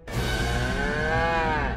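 A cartoon cow lets out one long, loud, drawn-out moo that swells slightly and holds steady before cutting off, heard alone with no talking.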